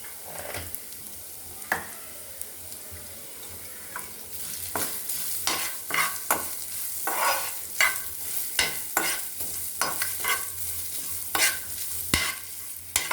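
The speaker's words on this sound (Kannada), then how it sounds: "ತೆಂಗಿನಕಾಯಿ ಚೆನ್ನಾಗಿ ಅದು ಬ್ರೌನಿಶ್ ಆಗೋ ತನಕ ಹುರ್ಕೋಬೇಕಲ್ಲ" Grated coconut dry-roasting in a pan for sabudana upma, a soft steady sizzle broken by repeated close scraping strokes of a spatula stirring it around, no voices.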